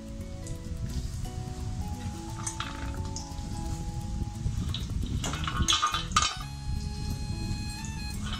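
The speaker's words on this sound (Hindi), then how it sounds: "इसे अच्छे से फ्राई कर लेते हैं।" Masala peanuts frying in hot oil, cooked over low heat: a steady crackling sizzle with scattered clinks and taps, under sustained background music without speech.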